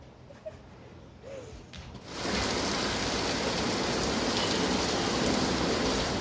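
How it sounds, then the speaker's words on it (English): Heavy rain begins abruptly after a quiet opening with a few faint sounds, then pours steadily as a loud, dense, continuous hiss. "It's still raining pretty heavily."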